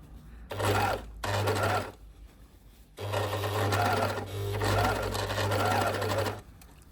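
A serger overlock sewing machine runs a seam in three bursts: two short runs, then a longer continuous whir, close and loud with brief pauses between.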